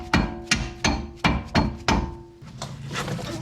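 Hammer blows driving a punch through the strut bolts on a Toyota Highlander front strut, five sharp metallic strikes in a steady rhythm, close and loud, followed by a lower clattering rumble.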